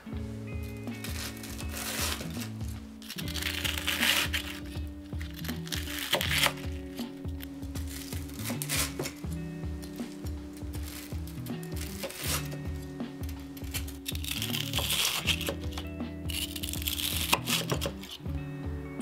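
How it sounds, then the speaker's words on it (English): Repeated crunchy crackling as a knife cuts a crispy fried pork cutlet (tonkatsu) into strips about 1 cm thick, slice after slice in a steady rhythm, close and clear. "Cut each strip about 1 centimeter or half an inch thick."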